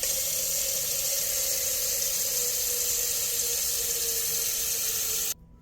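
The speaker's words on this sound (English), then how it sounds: "We will start by putting some water in a pot." Tap water runs steadily into a cooking pot for several seconds, a close, continuous rushing hiss that cuts off abruptly near the end.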